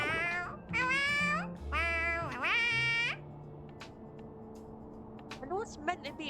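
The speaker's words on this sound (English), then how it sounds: "I know it's meant to be making dog noises, but it sounds like a cat" A small creature in Honkai Star Rail gives several high, whiny calls meant as dog noises but sounding like cat meows, in bursts over the first few seconds with faint game ambience and a few softer squeaks near the end.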